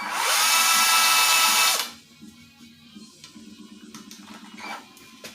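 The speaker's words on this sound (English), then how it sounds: "use the number 40 countersink." Power drill fitted with a number 40 countersink boring into metal, a loud high whine for about two seconds that cuts off and leaves quiet handling clicks and shuffling.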